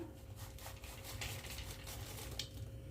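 Grated coconut being dry-roasted in a pan for rava laddu, a steady soft scrape and rustle of stirring with faint sizzle and occasional utensil clinks, close and continuous.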